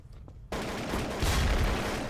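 A shotgun fires in Garry's Mod, starting abruptly after a moment of quiet and running as a loud burst of blasts that swells toward the end, with no talk over it.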